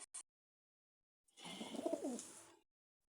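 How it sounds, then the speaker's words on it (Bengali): Pigeons in a loft, mostly hens with a few young birds, give one soft throaty coo of about a second, preceded by two tiny clicks in otherwise near-silent air. "এই যে হচ্ছে ভাইয়ের কবুতরগুলো"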